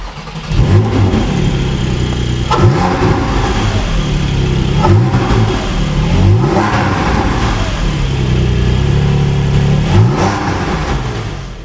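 A stationary Porsche 718 Cayman GT4 or 718 Spyder with a naturally aspirated flat-six engine revs loudly and close, its pitch climbing and falling in repeated blips about every two seconds.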